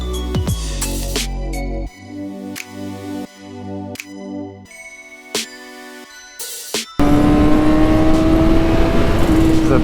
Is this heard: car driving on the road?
yes